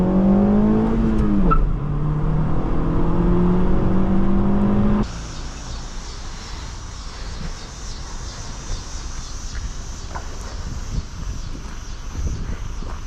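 A 2015 Honda Civic LX with a five-speed manual accelerates, its engine note rising in pitch for a few seconds, dipping briefly and climbing again before cutting to quieter steady road and cabin noise.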